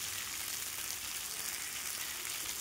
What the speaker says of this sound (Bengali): এই যে মাছগুলো দিয়ে দিয়েছি, ভালো করে কষিয়ে নিই আলু পটলের সাথে